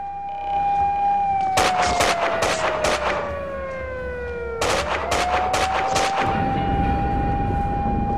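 Police gunfire in the video game Max Payne 2, loud bursts of rapid shots in two volleys over a falling, wailing siren tone, with the siren rising again afterwards.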